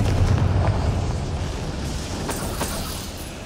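A Confringo blasting spell explodes in Hogwarts Legacy, a loud rumbling boom that starts at once and fades slowly over a few seconds, with faint sharp crackles near the end.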